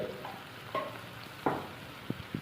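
Ground coriander, cumin and black pepper stirred into cauliflower curry in a pan, a soft sizzle underneath a few scraping strokes of the spoon, close and fairly quiet.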